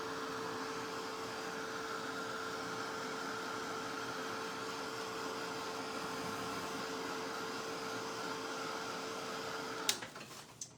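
A dryer blowing on a painting roars in a steady, even whoosh with a faint tonal whine for about ten seconds, then cuts off abruptly with a click and some handling noise.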